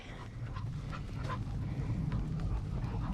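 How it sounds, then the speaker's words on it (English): A dog makes soft whimpering, panting and yipping noises over a steady low background hum, with no talking. "really love this dog, Hooch."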